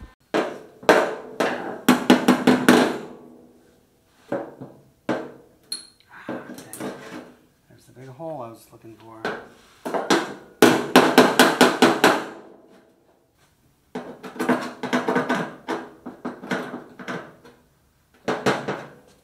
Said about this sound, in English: As I was doing some final hammer and dolly work, I poked a hole right through this super thin sheet metal.